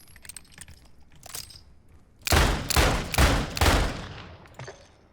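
Dual pistols in Warzone 2.0 firing in a rapid burst of loud, close shots, a handful of sharp cracks in quick succession after quieter handling clicks.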